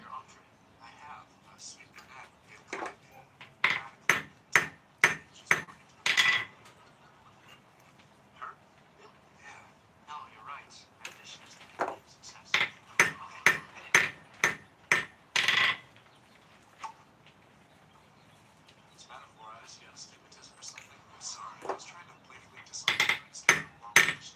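Repeated metallic hammer strikes on an anvil while a chainmail shirt is worked, coming in bursts of sharp, ringing blows with short pauses between runs, fairly close and loud.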